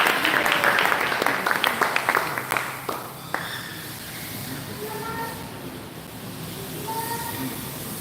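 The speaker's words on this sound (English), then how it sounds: "can you give me a round of applause?" An audience applauds at a Q&A event, dense clapping that is loud at first, then thins to scattered claps and fades within about four seconds, leaving a quiet room with faint background noise.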